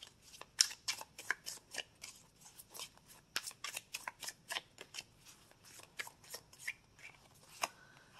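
Oracle cards shuffled close up, a quick run of crisp riffling flutters and soft slaps repeating in uneven bursts, with no voices.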